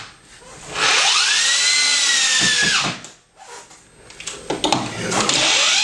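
A handheld power drill drives screws into an HO scale model railroad layout in two close, loud bursts, the motor whining as it loads up and then winding down between them.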